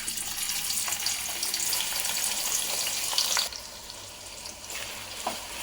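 Chopped onions hitting hot oil in a pan for a Konkani mutton korma, a steady bright sizzle that drops in intensity partway through, continuing as a quieter crackle with occasional small clinks.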